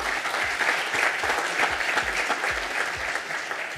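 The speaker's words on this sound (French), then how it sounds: "n'hésitez pas à l'applaudir" A room full of people applauds a speaker after a talk on crop water needs and climate change, with steady, fairly loud group clapping that lasts throughout.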